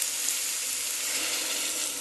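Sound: hot water added to frying potato and pea curry, sizzling

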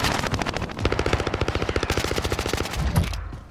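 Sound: gunfire in video game Call of Duty Modern Warfare

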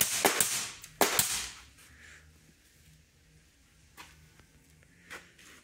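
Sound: fastener gun shooting into boat planking

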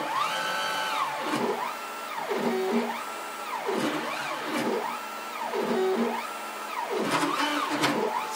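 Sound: CNC router running tool paths, cutting pockets

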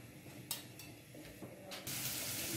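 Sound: garlic paste frying in oil in a pot

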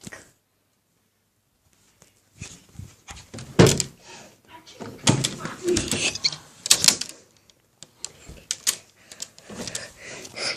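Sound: someone trying to open a door, from a horror video game

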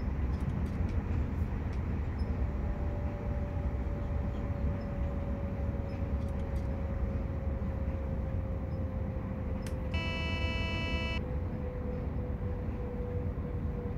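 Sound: ÖBB 4746 train running in Train Simulator Classic video game

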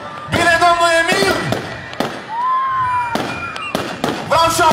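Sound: fireworks exploding

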